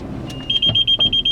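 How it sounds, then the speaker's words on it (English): A car's collision warning alarm beeps at a steady high pitch, repeating fast in even pulses, with low engine rumble underneath. "That alarm means I'm about to crash into something."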